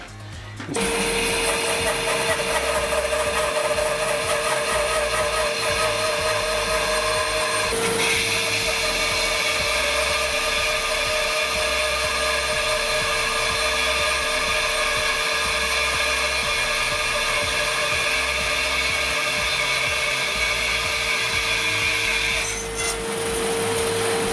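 A bandsaw cutting wood gives a steady, continuous mechanical whine with an even hum that runs unbroken for the whole stretch, fairly close and with no talking.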